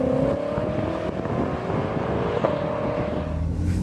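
A 2013 BMW M5 sedan with a twin-turbo 4.4-liter V8 pulls hard, its engine a steady droning roar with rising tonal whine, recorded up close with some wind noise and no talking.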